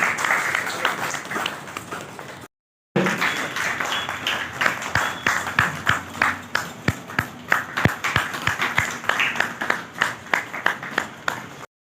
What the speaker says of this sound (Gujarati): જોરદાર તાળી પાડીશું.